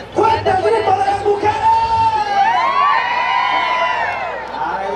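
Women in the crowd at a rural jaripeo bull-riding festival during patron-saint celebrations in El Escondido, Guerrero, shout and whoop together in a loud, sustained collective cry with rising and falling yells.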